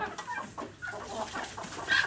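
A hen clucks in a chicken coop while laying an egg, giving a short series of soft, rhythmic clucks close by that rise slightly at the end.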